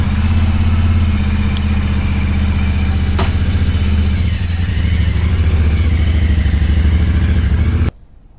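A motorcycle fitted with a tubeless conversion kit runs steadily on a trial spin, its engine thrumming loud and close with a constant low rumble for several seconds before cutting off abruptly.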